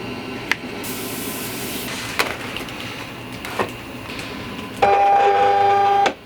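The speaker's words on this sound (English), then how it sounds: "let's go ahead and load it up onto the cutting mat and put into the cutter" Silhouette Cameo 4 cutter taking in a cutting mat: a few short clicks and bumps over low room noise, then a brief steady motorized whir near the end, close by.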